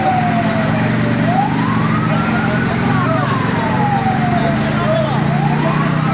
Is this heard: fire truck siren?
yes